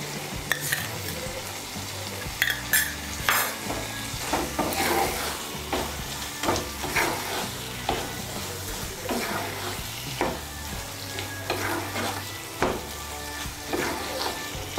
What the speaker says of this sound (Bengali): আঁচটা বাড়িয়ে দিয়ে আমি 1 মিনিটের মতো নাড়াচাড়া করে নিয়েছি